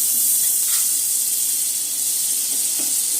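A spoonful of butter sizzles in a hot pan while cooking masala, giving a steady, bright, close hiss that continues without pause.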